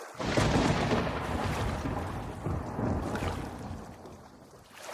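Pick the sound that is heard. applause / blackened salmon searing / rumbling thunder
rumbling thunder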